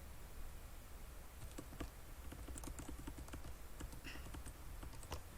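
Computer keys clatter in quick irregular clusters of taps, close and crisp over a faint room hiss, with a few louder keystrokes standing out.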